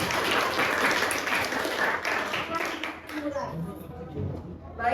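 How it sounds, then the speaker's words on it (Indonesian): A classroom of students applauds for group 3 before their presentation, dense clapping that fills the room, fading toward the end with some voices coming through. "Kita beri tepuk tangan yang meriah untuk kelompok 3"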